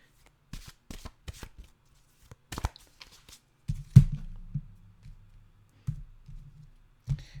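Tarot cards are shuffled by hand in quick, close riffles and taps, followed by a few soft thumps and faint low hum.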